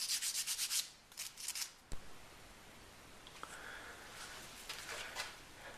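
Abrasive rubbing against a handmade guitar nut as its sharp edges are rounded over, heard as a run of quick, close scratchy strokes, then quieter intermittent scraping.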